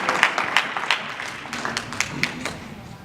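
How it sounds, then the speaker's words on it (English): An audience claps in applause for the mayor at a community coffee event, a steady patter of hand claps with a few sharper slaps, moderately close and continuing throughout. "Please give a round of applause for the wonderful Mayor Riley Rogers."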